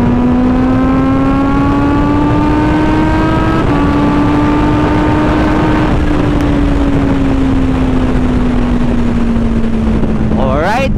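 Kawasaki ZH2 motorcycles with titanium full exhausts accelerate hard on a road, a loud, close engine drone climbing steadily in pitch, easing briefly between gear changes and holding strong to the end.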